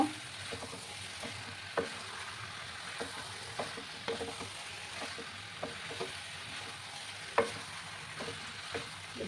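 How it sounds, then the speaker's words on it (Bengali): Jackfruit being stirred into a spiced mixture with potatoes in a pan for prawn-and-jackfruit curry, giving a steady sizzle broken by soft, irregular scrapes and taps of a spoon, close and fairly quiet, with no talking. "এবার আমি এঁচড়টাকে দিয়ে দিলাম, দিয়ে ভালো করে মশলার সাথে মিক্স করে নেব"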